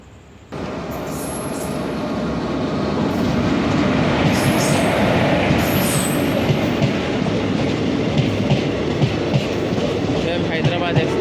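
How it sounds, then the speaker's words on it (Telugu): The Hyderabad Express, an Indian Railways train on the Chennai to Hyderabad route, rushes past at close range, a loud, sustained rumble of wheels and carriages with rhythmic clatter and some high squeal. "Hyderabad express crossing Hyderabad express"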